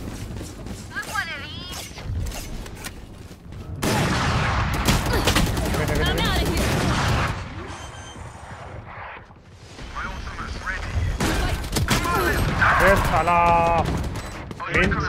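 Shotgun blasts and other gunfire in Valorant come in loud clustered volleys with quieter gaps between them, while someone talks excitedly over the shooting.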